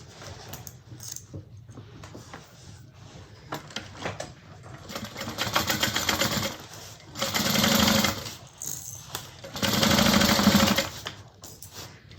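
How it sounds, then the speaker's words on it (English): A sewing machine stitching fabric for a bag at a quarter-inch seam, running in several close bursts of steady mechanical whirring separated by quieter gaps. "we're going to sew this on at 1/4 inch"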